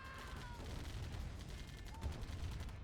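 Gunfire from a turret in the strategy game Path to Glory, a 2v2 tournament match, with a steady rattle of fairly quiet shots under a continuous low rumble and faint tonal game effects.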